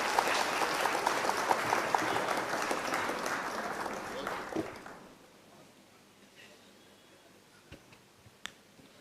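Loud applause from an audience at a Hindi-language speech event, dense clapping for about five seconds before quickly dying away into a quiet room with a few scattered claps.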